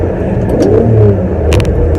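A Ferrari 550 Maranello V12 revs up and eases off through a gear change, heard loud and close as a throaty, surging engine rumble with no voices over it.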